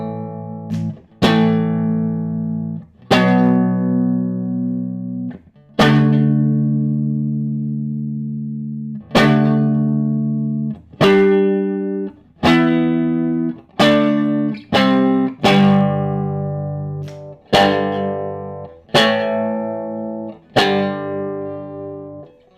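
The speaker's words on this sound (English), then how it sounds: "Sounded like I had a vibrato pedal on the floor," Electric guitar with staggered single-coil pickups, a slow series of plucked notes and chords ringing out and decaying, each carrying a wavering, vibrato-like overtone, played alone with no talking.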